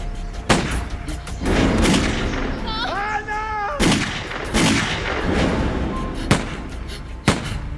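Sharp, loud gunshots ring out one at a time during shooting practice, about six spaced cracks with echoing tails, and a voice cries out briefly between them.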